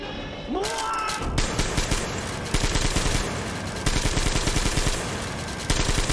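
Rapid automatic gunfire from a weapon in Metro Exodus, loud and close, with fast repeated shots in several bursts that run almost without pause.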